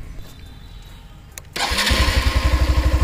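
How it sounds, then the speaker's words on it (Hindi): A 2021 Hero Xtream 160R BS6 motorcycle engine starts after a quiet moment, catching abruptly and settling into a loud, close, rhythmic idle. "तो अभी मैं इसका आप लोगों को"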